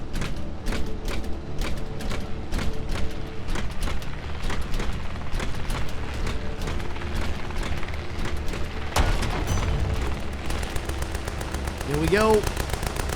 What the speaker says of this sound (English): They're shooting at me, but taking the cover.